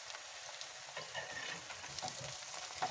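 Meat and onions frying for Uzbek plov, a soft, steady sizzle with faint crackles and an occasional light stir, fairly quiet and close, with no voices.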